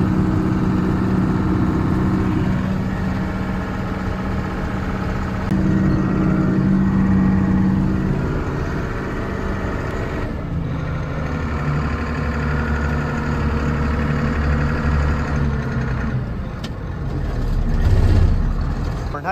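A combine harvester's engine runs with the thresher engaged during a corn harvest, a loud steady mechanical drone with a deep rumble and shifting hum, heard from close by without talk.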